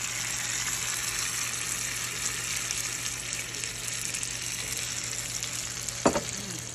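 Buttermilk batter for a lemon blueberry Dutch baby poured into a hot pan, producing a steady, soft broadband sizzle throughout and one brief knock near the end.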